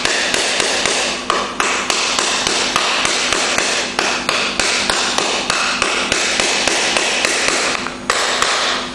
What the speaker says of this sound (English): Hammer the pieces down and in.